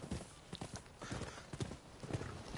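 Galloping horse hooves from the video game Rise of the Ronin, a quick run of rhythmic clip-clop beats close up and fairly loud, with a brief whinny and no speech over it.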